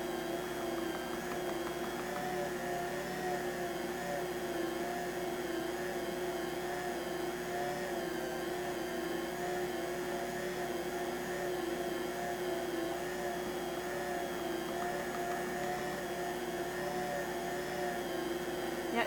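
Stand mixer kneading whole grain bread dough, a steady motor hum with a rhythmic churning texture running continuously at moderate volume, no voices.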